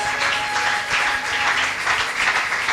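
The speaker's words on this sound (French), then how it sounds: "Sous vos acclamations, aidez-moi avec des cris de joie" A church congregation at a convention applauding and cheering, a dense steady wash of clapping and voices that fills the whole stretch without a break.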